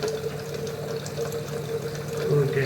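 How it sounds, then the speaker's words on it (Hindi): Water running inside a Super 501 DX machine during its cleaning cycle, a steady close rush of flowing liquid over a low mechanical hum, rising slightly toward the end, with no voices. "अभी क्या है कि पानी चालू हो चुका है और आपने वेट करना है।"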